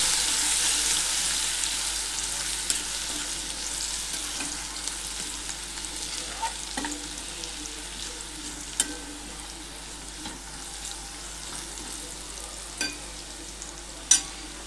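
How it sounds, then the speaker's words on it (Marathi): Ginger, garlic and green chilli sizzle steadily in a hot pan with coriander, cumin and fennel seeds, a continuous close frying hiss broken by occasional spoon taps and scrapes as the mix is stirred. "छान गोल्डन रंग येईपर्यंत आपल्याला याला फ्राय करायचं आहे"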